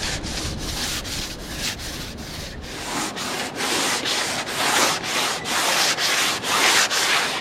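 Rhythmic back-and-forth sanding strokes on a boat hull between coats of paint, a close, steady rasping scrape repeating about twice per second with no talk.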